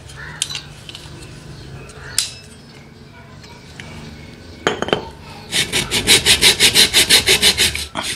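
A pumice scrub soap bar being cut, with a few scraping strokes followed by a steady, rhythmic rasping saw-like run of about a dozen close, loud strokes, no talk.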